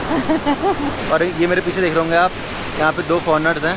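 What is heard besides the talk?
Ganga river waterfall rushing water at Surya Kund, Gangotri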